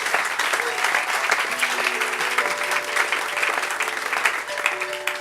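A church congregation claps and cheers for the Lord during a French sermon, a dense, sustained round of applause with crowd noise that carries on steadily throughout.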